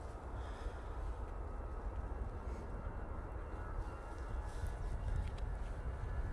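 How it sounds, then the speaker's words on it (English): A Finnair Airbus A319 airliner takes off at Manchester Airport in low visibility, a steady broadband engine roar with heavy low rumble that holds loud and even throughout, with no talk. "And there goes that Finnair A319."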